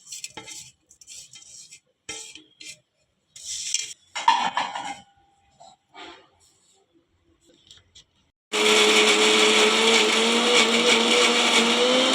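A mixer grinder starts up loudly after some clinking and scraping of utensils, running as a steady, high-pitched whir to the end, grinding horse gram chutney.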